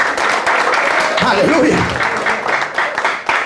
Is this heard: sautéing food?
no